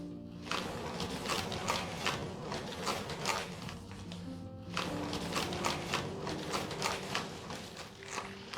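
Large canvas painting spinning on a turntable, giving a rhythmic repeating whir and rattle of the rotating base, fairly close and steady, with a short pause midway before spinning resumes.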